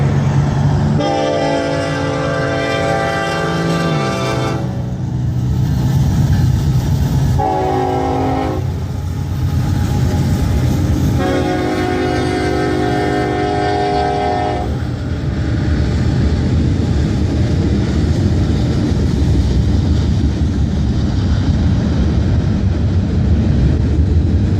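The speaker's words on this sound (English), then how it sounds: "On another day, I caught another freight moving south." A southbound freight train passing close and loud, a continuous heavy rail roar throughout with repeated sustained horn blasts sounding over it.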